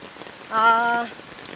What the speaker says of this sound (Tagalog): malakas pa rin yung ulan dito sa Bulacan